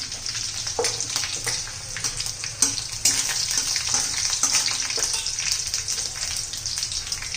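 Garlic and two green chillies sizzle steadily in a pan while pumpkin bhaji is cooked, with a continuous close frying hiss and occasional clinks of stirring, and no talking.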